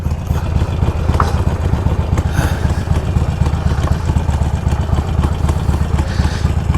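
A motorcycle engine idles nearby with a steady, pulsing low rumble and light mechanical clatter, holding an even level throughout with no voices.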